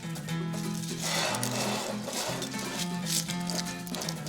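A bunch of cornflakes is handled for an Afghan cookie ice cream, giving a soft continuous crunchy rustle over a quiet tonal hum, with no talking.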